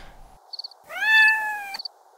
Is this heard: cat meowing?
yes